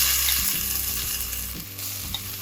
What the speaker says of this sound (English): Allow the cumin seeds to splutter.